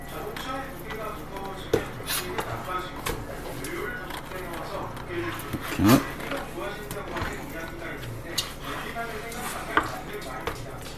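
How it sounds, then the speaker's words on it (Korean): A knife slices boiled beef tripe into bite-size pieces for homemade tripe soup, with sparse, irregular cuts tapping against a board amid a busy kitchen background, and a voice talking at times. "자, 이제 양을 썰어줄 거예요"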